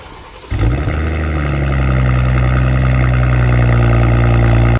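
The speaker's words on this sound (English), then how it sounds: "this car has a really good performance of punchy B58 engine with really cool cold starts" A BMW X3 M40i with its B58 engine cold-starts: a brief starter whir, then the engine catches with a loud flare and settles into a steady, high, droning fast idle that holds to the end.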